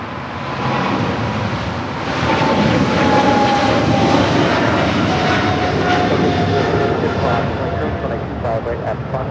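Airliner landing on runway 25 left at Los Angeles International Airport, a loud sustained engine roar that builds and holds with wind buffeting, while radio voices talk over it.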